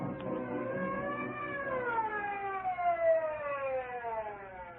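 An ambulance siren sweeps up and down in long, steady cycles, loud and continuous with no voices, in an old-time radio drama.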